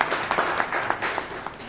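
A small club audience at a Bangalore Toastmasters meeting applauds the evaluator and speaker, a light, uneven patter of a modest number of hands clapping nearby for under two seconds.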